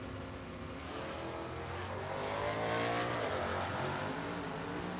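A 1965 Mustang and a Corvette drag race at Tucson Dragway, their engines building into a loud, sustained roar with a rising pitch before it eases slightly.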